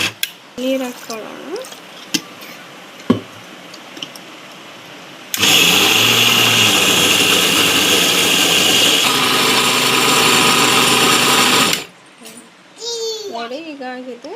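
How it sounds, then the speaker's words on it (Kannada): An electric mixer grinder churns dosa batter from soaked rice and lentils with added water, giving a loud, even motor roar for about six seconds between stretches of nearby talk. "ಈ ಥರ ನುಣ್ಣಗೆ ರುಬ್ಬಿಕೊಂಡಿದ್ದೀವಿ"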